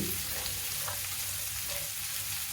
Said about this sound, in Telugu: సన్నగా తరుక్కున్న పచ్చిమిరపకాయ ముక్కలు వీటన్నిటిని నిదానంగా వేపుకుందాం మాడిపోకుండా చూసుకోండి